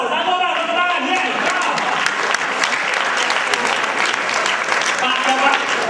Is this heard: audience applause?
yes